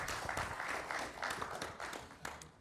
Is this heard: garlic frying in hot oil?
no